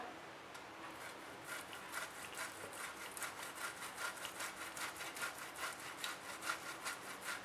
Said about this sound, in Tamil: முதல்ல வந்து கிரேட்டர் வச்சு நான் உருளைக்கிழங்கை வந்து கிரேட் பண்ணிக்க போகிறேன்.